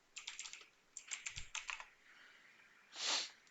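Quiet keystrokes on a computer keyboard come in two quick bursts of clicking, followed by a brief soft whoosh.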